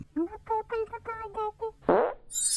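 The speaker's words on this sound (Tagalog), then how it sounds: "Umutot ka ba?" A short, loud fart bursts out at the end of a line of a woman's spoken Tagalog, followed by a brief hiss.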